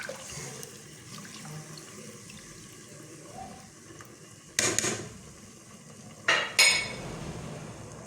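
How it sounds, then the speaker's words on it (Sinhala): Chicken stock water poured into a cooking pot of chicken pulao, a quiet background with two short louder splashing bursts near the end, nearby and brief. "මේ චිකන් එක තඹ ගනිපු වතුර එක දැන් මේකට දානවා"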